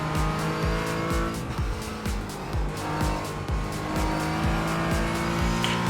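GT4 race cars lapping Charlotte in iRacing, a simulated motorsport game: loud, layered engine drones rising and falling through repeated gear changes, with tire squeal and cars passing close by, continuous and without talk.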